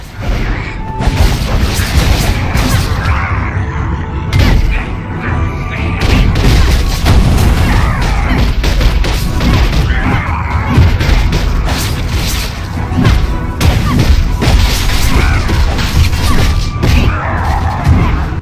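Heavy booms, crashes and smashing impacts from totems being destroyed in the online game Black Desert Online, loud and continuous combat noise with repeated hits throughout.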